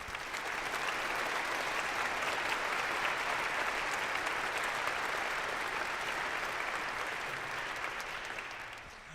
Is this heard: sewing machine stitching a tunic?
no